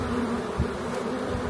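Honey bees in a queenless hive drone in a dense, steady buzz close by, a continuous swarm hum with no voices.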